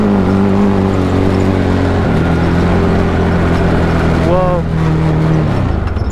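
An electric race car built for over 120 mph accelerates with a loud, close mechanical whine and droning tones that shift in pitch as it gains speed, while a voice is heard over it.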